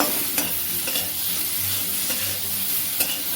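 Bitter gourd leaves and eggplant sizzle and fry in a pan while being stirred, with a steady hiss and occasional scrapes and light knocks of a utensil.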